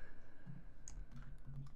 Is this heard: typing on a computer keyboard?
yes